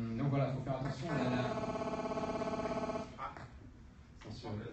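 A telephone rings at a conference talk about SEO, sounding as a sustained electronic warble for about two seconds under and between a man's speech, moderately loud.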